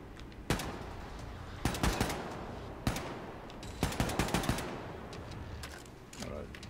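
Gunfire from shooting enemies in Wolfenstein II, sharp single shots and quick bursts spaced across the clip, loud and punchy over a low game background.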